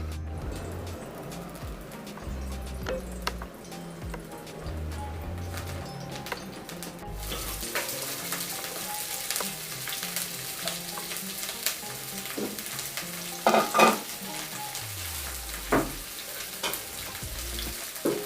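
Oil sizzles in a pan outdoors. A faint hiss starts, then swells into a loud steady crackle partway through, with a few knocks and birdsong far off.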